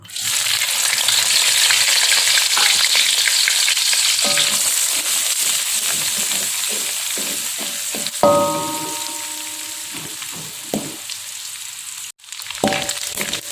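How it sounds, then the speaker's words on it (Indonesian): Small anchovies fry in hot oil in a pan, giving a steady, loud, close sizzling hiss that runs throughout, broken by a few stirring scrapes and tonal clinks near the end. "sekarang kita goreng ikan terinya"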